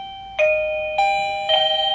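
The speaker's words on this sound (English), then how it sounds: "So I press my doorbell" A Digoo DG-XYA 1080P smart video doorbell chimes indoors, three clear electronic ding tones in quick succession, each ringing on with a smooth decay, alone against a quiet room.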